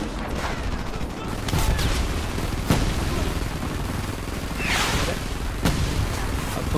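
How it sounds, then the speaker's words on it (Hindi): A rocket flies past close by in the video game Frontlines: Fuel of War, a brief whooshing sweep amid a busy battlefield of distant explosions and scattered gunfire, with faint voices in the mix. "कितने पास से रॉकेट निकला है भाई"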